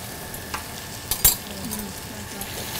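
Butter with chopped shallots and garlic sizzles steadily in a pan, a close hiss broken by a few clinks and stirring knocks, including one sharp clatter midway.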